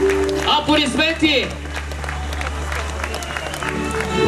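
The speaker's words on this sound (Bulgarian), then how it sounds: "Аплодисменти!" A crowd applauds at the arrival of the UEFA Champions League trophy in Sofia, the clapping steady and moderately loud under someone speaking over it.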